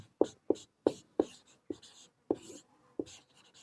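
A maths solution is written out in a quiet run of about seven sharp, close strokes, each a brief scratch followed by a soft trailing scrape, spaced unevenly with short pauses between.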